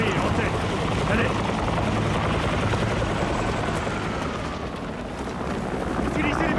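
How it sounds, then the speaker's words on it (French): A helicopter in the Battlefield 6 campaign gives a constant, dense rotor roar that fills the whole stretch at a steady level. "Hélicoptère."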